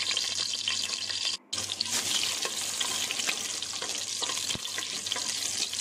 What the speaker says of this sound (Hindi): ये देखिए हमारे आलू फ्राई हो रहे हैं.